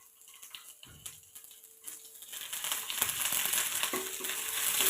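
Curry leaves and dried red chillies hitting hot oil with shallots for mathi peera, a few soft clatters at first, then a bright crackling sizzle that swells and stays loud and close, with no voices.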